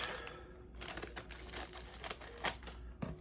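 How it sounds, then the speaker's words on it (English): Crinkly plastic bag of a 1969 Barracuda model kit being torn and pulled open, with sharp crackles and rustling bursts close by, no voices. "Let's open up this bag first."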